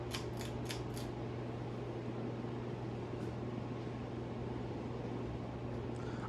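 An Emerson 1895 series 42-inch ceiling fan, light bulbs removed, runs on its low setting with a steady low motor hum and a few faint clicks near the start. No one speaks.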